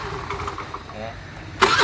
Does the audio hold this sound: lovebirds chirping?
no